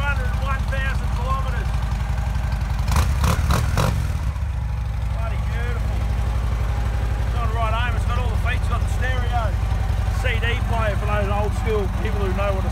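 A Harley Davidson Ultra Classic motorcycle with over 200,000 km cruises along with a steady, loud low engine thrum throughout, a brief clattery burst partway through, and a person talking over it much of the time.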